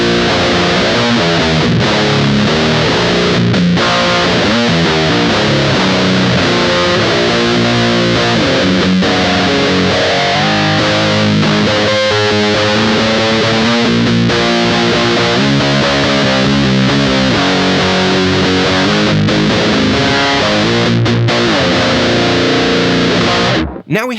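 Electric guitar through a Big Muff fuzz with an Electrojunk BOOst treble boost engaged, neck pickup, playing a continuous loud, saturated distorted passage for the whole stretch without pause.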